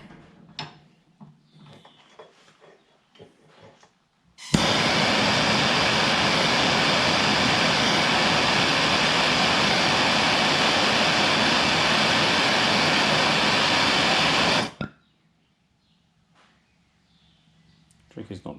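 A MAPP gas torch burns steadily for about ten seconds while reheating a solder joint on fishing boat electrical wiring, a loud, close, roaring hiss that begins and cuts off abruptly, with quiet handling noises before and after.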